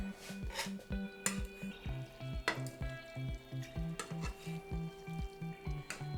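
Spaghetti is stirred in a pan of hot olive oil and garlic over medium-high heat, a soft sizzle under rhythmic scraping and clicking of the utensil, close and fairly quiet.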